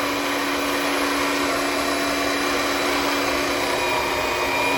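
A magnetic drill cuts into metal with WD-40 lubricant, giving a steady, loud, continuous motor whine and grinding hum that holds unbroken throughout with no talking.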